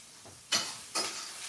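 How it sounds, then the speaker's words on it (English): Onions hitting hot oil in a pan give two sharp sizzling bursts about half a second apart, each fading into a steady low fry. "Watch me burn my onions"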